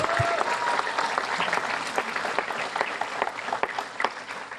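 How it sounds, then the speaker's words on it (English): A live audience bursts into steady applause at a Wounded Warrior Project event for Louisiana and Mississippi, with dense clapping filling the whole stretch and a few light voices mixed in. "just a real quick round of applause for everybody who did this for us"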